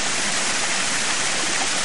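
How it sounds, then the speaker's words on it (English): Lyrebird waterfall and its creek pour over boulders on a bush walk near Calna Creek, a loud, unbroken rush of falling and flowing water close by with no other sound. "we're actually at the top of the Lyrebird waterfall"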